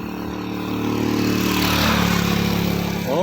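A motorcycle climbs a steep uphill road loaded with cargo, its mid-pitched engine droning steadily close by and straining as it pulls up the grade.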